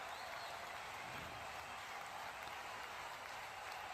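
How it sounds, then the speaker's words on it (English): Cricket crowd at an India vs Bangladesh U19 Asia Cup semi-final cheering and clapping for a single, a steady, distant wash of applause throughout. "even a single is cheered because those 2 shots have woken up the crowd"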